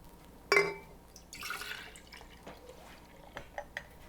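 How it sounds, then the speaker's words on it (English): Milk poured from a container straight into a quart-sized glass jar for homemade yogurt, a soft clink on the glass followed by a gentle trickling stream and a few faint drips, close and quiet. "I just measure out my milk right into the jar"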